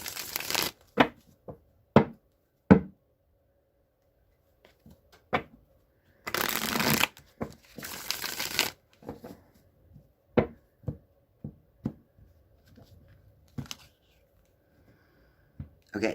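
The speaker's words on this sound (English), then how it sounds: "Nancy Guthrie, now I'm shuffling the Deviant Moon deck 3 times" A Deviant Moon tarot deck is shuffled, giving quick papery riffles and crisp card taps that come in short bursts separated by quiet gaps.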